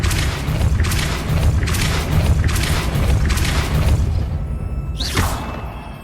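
Depulso spell cast in the Hogwarts Legacy video game, a loud booming, rumbling blast heard as repeated surges followed by a rising whoosh, with no talk over it.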